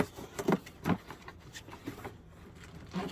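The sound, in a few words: unboxing a Camco sewer hose kit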